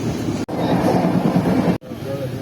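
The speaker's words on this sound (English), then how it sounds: "So right now the train is crossing Jolarpete junction." A passenger train runs on railway tracks near Jolarpete junction, heard from onboard as a loud, continuous rumble and rattle with two brief abrupt cutoffs.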